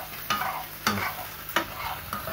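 Breakfast cooking in a frying pan, a steady sizzle punctuated by three or four sharp spatula scrapes at roughly even intervals, close and unaccompanied by talk.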